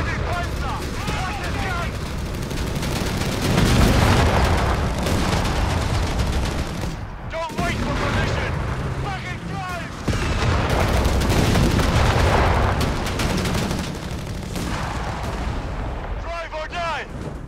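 Heavy Panzer tank gun and artillery fire in Company of Heroes 3's North African operation, repeated loud booming blasts with crackling gunfire between them under game voice callouts.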